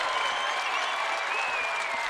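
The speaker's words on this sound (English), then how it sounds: "this crowd will erupt" A college basketball arena crowd during an NCAA women's game bursts into sustained applause and cheering, a dense, steady clapping roar held for a couple of seconds with no talk over it.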